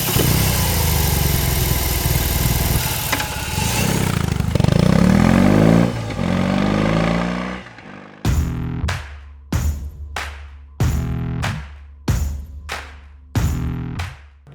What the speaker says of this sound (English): when you thumb the starter, you'll be shaken and stirred, quite literally. Allow me to demonstrate.